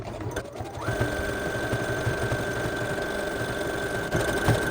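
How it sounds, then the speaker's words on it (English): A sewing machine stitches a zigzag seam near the fabric edge of a soap pouch, running as a continuous close mechanical whir with a rapid needle rhythm throughout. "you're just going to stitch between that seam you just did and the edge of your fabric"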